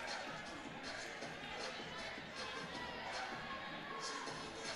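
A Jefferson crowd fills a gym at a girls' volleyball senior night, a dense continuous roar of chatter and cheering, with voices and shouts blending into a steady wash.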